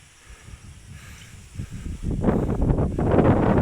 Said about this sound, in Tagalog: Medyo mahangin-hangin ng konti.